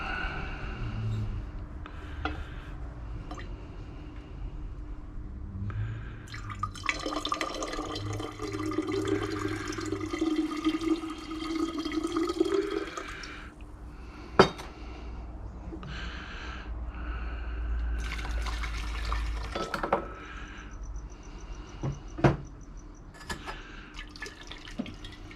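Water poured off from a bowl while refining gold recovered from fingers, a low splashing pour that rises and falls over several seconds, with faint drips and small clinks before and after.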